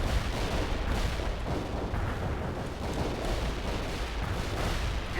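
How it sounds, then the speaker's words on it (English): A heavy artillery barrage in the strategy game World in Conflict, heard as a dense continuous rumble of overlapping booms and blasts, loud and unbroken. "We can start a heavy barrage."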